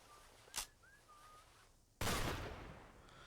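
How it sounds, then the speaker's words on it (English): Shotgun fire in the video game Empire of Sin: a short sharp crack, then a louder blast about a second and a half later that trails off in a noisy decay, with faint whistling tones underneath. "Shotgun blast for 2."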